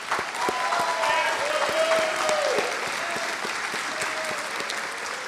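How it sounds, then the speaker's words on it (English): Graduation ceremony audience applauding faculty and staff, a steady dense wash of clapping hands from a large crowd, loud and sustained throughout, tapering slightly toward the end. "I want to applaud the faculty and staff who have worked tirelessly to prepare the next generation of leaders"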